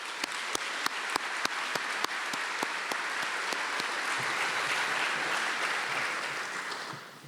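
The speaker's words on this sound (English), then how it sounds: "One round of applause for everyone," Applause from an audience at a convocation honoring tenure recipients, starting with a few sharp separate claps and quickly swelling into a dense, sustained round of clapping that fades out at the end.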